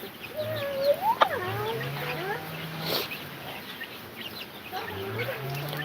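Hens and chicks cluck and cheep while roaming a garden, with repeated close, moderately loud calls at an uneven rhythm and a person's voice occasionally heard among them.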